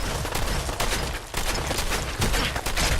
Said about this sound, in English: who are you shooting at over here?